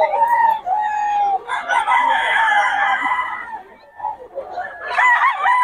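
A Sweater-bloodline gamecock crows loudly and close by, with long drawn-out calls repeated over several seconds and some clucking at a market.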